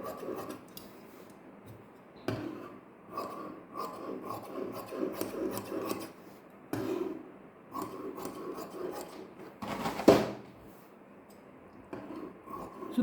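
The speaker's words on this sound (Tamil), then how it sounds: "இப்போ நம்ம இந்த நெக் மாதிரியே இந்த ஓரத்தில் இதை கட் பண்ண போகிறோம்" Scissors cut through cotton saree fabric along a neckline edge with soft, repeated snipping and rasping strokes, close by and in bursts separated by short quiet gaps, one sharper crunch near the end.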